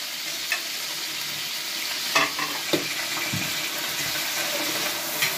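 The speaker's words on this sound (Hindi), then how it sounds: "इसको अच्छी तरह से मैं मिक्स कर रहा हूँ।" Ginger-garlic paste and large tomatoes being stirred in a hot pot, a broad steady sizzle with a few louder scraping knocks of the spoon, close and without talk.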